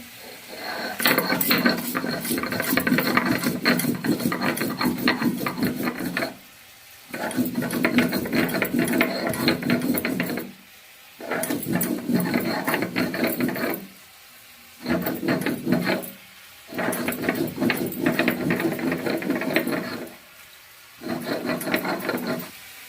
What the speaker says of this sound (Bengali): দুটো কাঁচা লঙ্কা দুটো শুকনো লঙ্কা নিয়েছি বেটে নেব